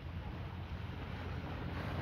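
Calm sea at Maraetai beach in Auckland, a steady low wash of gentle water under constant wind rumble buffeting the microphone, no distinct wave breaks.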